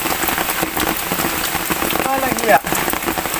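Heavy rain and wind pound a surface in a dense, continuous roar, with a brief spoken remark near the end.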